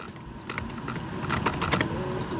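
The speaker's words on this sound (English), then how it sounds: "I want you to type in Publisher Rocket." Someone types on a computer keyboard in short bursts of quick clicky keystrokes, close and fairly quiet, with no talk.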